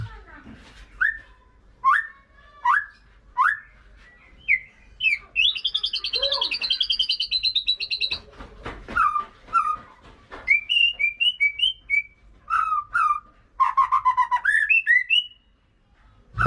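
A murai (white-rumped shama) songbird, a bird that had stopped singing during its tail-feather molt, sings loud, close whistled phrases in short repeated bursts, with rising chirps and a longer warbling run in the middle.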